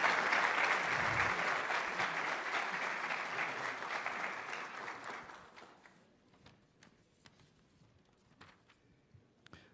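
Audience applause at a university emeritus professor ceremony at the University of Brasília, a dense burst of clapping that fills the hall for about five seconds before thinning to a few scattered claps and faint room sounds.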